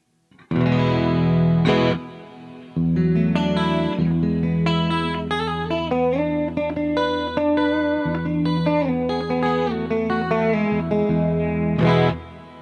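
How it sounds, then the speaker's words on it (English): Distorted electric guitar playing a melodic riff over held chords, notes ringing and blending with a spacious wash of reverb tail from a rack effect mixed in parallel through an analog mixing board. "here I can bring in some reverb."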